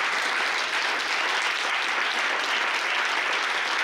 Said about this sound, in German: Ich glaube mal einen Applaus für ihn